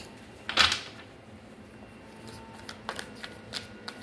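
A quick riffle of cards near 0.6 seconds, then softer scattered flicks and taps of cards being handled in a quiet room.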